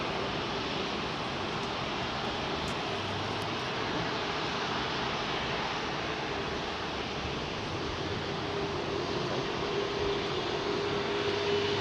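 Rolls-Royce Trent 900 jet engines on an Airbus A380 spooling up at London Heathrow, a loud continuous broadband roar that holds steady and swells slightly toward the end, with no voices.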